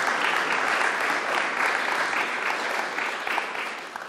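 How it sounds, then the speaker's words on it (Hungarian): A hall audience at a March 15 commemoration in Munich applauding after a choir performance, dense, sustained clapping that fills the room and eases slightly toward the end. "Nagy-nagy tapsot, és nagyon szépen köszönjük a türelmet és a vezetést."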